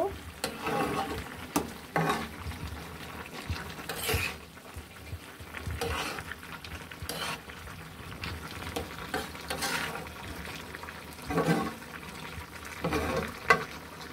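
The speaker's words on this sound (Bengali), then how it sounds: "ঢাকনাটা এবার তুলে নিব। একটু নাড়া দিয়ে দিব।" A spoon stirs a prawn, potato and pumpkin-leaf curry in a pan, making intermittent scraping and clattering strokes over a soft bubbling simmer, irregular and fairly quiet, close by.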